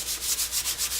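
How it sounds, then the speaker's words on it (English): Hand sanding high-build primer on a car body with 1200-grit sandpaper, a steady rhythmic back-and-forth rasp of even strokes, close up and alone. "I'm sanding it down with some 1200 paper."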